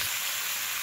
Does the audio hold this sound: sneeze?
no